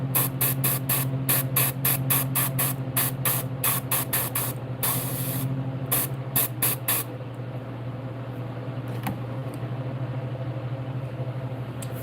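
Airbrush spraying paint onto a largemouth-pattern fishing lure, heard as a series of rapid short hissing bursts over a steady compressor-like hum, then a longer continuous hiss that trails into steady background drone.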